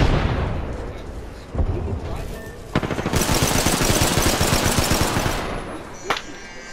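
Gunfire and grenade explosions in the video game Apex Legends: heavy booms and bursts of rapid automatic fire overlap in a loud, dense barrage, with players talking over the battle.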